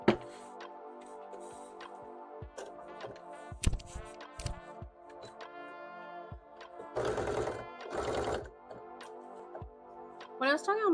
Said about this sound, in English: now we can move on to sewing these hair pieces